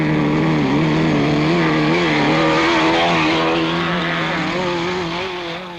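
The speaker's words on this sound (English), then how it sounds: "Sideways motoring on grass is all part of autocross" Several 1970s autocross cars slide sideways across a grass course, engines roaring loudly and continuously with revs rising and falling throughout.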